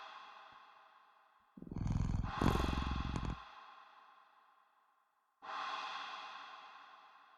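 A cat purrs inside a video game while being picked up, cradled and scratched on the head: a soft, steady purr at first, then two louder, fuller swells of rumbling purring separated by a brief quiet gap.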